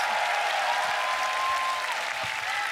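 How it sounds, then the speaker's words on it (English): Steady, dense applause from a large crowd at a beatbox battle, honoring a competitor after a semifinal round; continuous, broad clapping without a break, with no voices standing out. "Wing にも大きな拍手をお願いします。"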